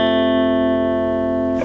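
Guitar notes from a riff ring together and sustain like one held chord, a steady bright tone with a processed, effected shimmer, close and alone before cutting off abruptly.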